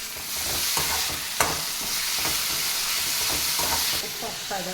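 Chopped tomatoes hitting hot oil in a home kitchen pan and frying with a steady loud sizzle, broken by a few stirring scrapes and clinks.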